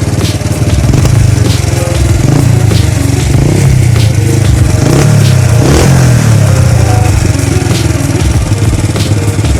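A Honda Wave 110i motorcycle fitted with an open split exhaust, revving loudly and continuously up close, with a rough, throaty engine note that rises and falls under repeated throttle blips.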